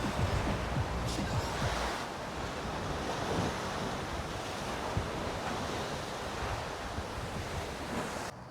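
Caribbean Sea surf crashes and roars continuously along the shore, loud and close, with strong wind buffeting the microphone.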